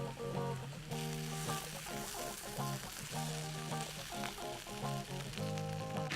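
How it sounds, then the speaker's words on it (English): Corned beef hash fries in a cast iron skillet, a steady close crackling sizzle throughout, with faint background music tones underneath. "You want to hear that sizzling."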